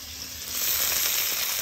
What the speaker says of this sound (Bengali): মাছ ভাজা হয়ে গেল